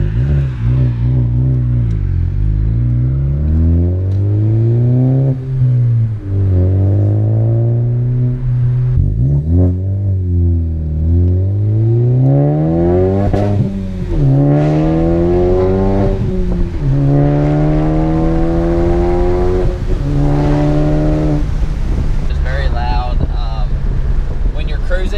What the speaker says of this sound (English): let's go ahead and take the car for a drive